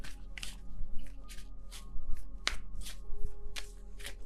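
Tarot cards being shuffled by hand, repeated soft riffling bursts in an uneven rhythm, close and fairly quiet.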